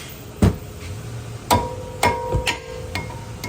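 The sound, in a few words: hammering a brake rotor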